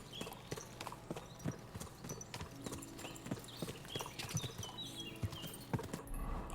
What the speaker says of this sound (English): Ride, Pebbles, ride!